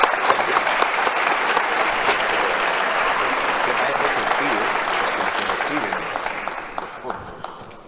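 Sustained audience applause after a panel debate at a Central Bank of Chile event, a dense, loud wash of many hands clapping steadily for several seconds before thinning and fading toward the end.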